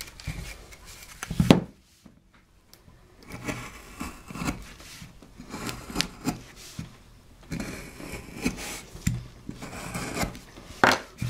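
A carving tool scrapes and rasps at a wooden face-study stick to enlarge an eye socket, a series of short irregular scraping strokes, close and fairly quiet, with a brief pause early on.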